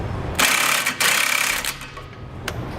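Socket wrench with a 22mm socket tightening bolts on a Curt trailer hitch receiver fitted to a 2018 Ram 3500, giving close, bursty mechanical ratcheting in several loud stretches over a steady background.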